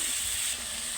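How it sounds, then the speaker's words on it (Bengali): Hilsa fish pieces go into a pan of spiced masala, giving a steady close sizzle and soft frying hiss for about a second, ending in a brief sharp clatter. "মাছগুলো দিয়ে দিতেছি এখানে আমি।"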